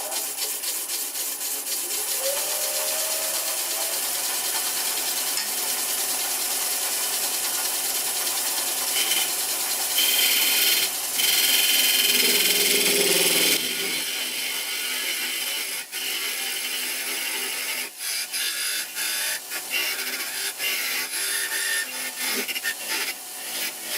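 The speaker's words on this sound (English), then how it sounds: "I'm just going to cut a dovetail in here using this scraper" A metal scraper cuts a dovetail recess into a wooden bowl, giving a steady rasping, scraping texture with a louder, grittier stretch midway and intermittent ticks and knocks of the tool against the spinning wood.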